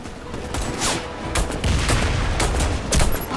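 Rapid bursts of gunfire in the video game Warface, fired at a tank under attack, crackle in dense overlapping volleys with sharp broadband cracks throughout, loud and continuous with no voices.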